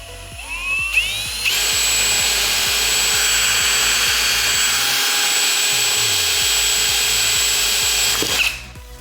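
A power drill bores into a small spot weld, spinning up with a short rising whine, then holding a loud, steady high-pitched grind for about seven seconds before winding down, over faint rhythmic thumping in the background.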